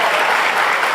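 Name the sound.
congregation applause for Joyce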